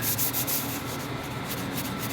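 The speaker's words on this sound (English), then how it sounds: "I'm going to go ahead and just lightly Scotch-Brite the area where my polish ran over to my surface that I'm planning on painting" A medium Scotch-Brite pad lightly scuffs the painted aluminum wing skin of a Seversky P-35A, making soft, continuous scrubbing strokes with a brisk back-and-forth rhythm, close and fairly quiet.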